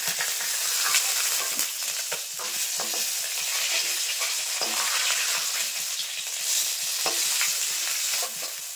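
Fried fish is lifted out of hot mustard oil in a wok: continuous sizzling under repeated scraping and clinking of a utensil against the pan, close and busy, with no speech.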